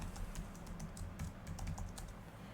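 Quick, faint clicking of keys as a sudo password is typed on a computer keyboard, a close irregular patter of keystrokes over a low background hum.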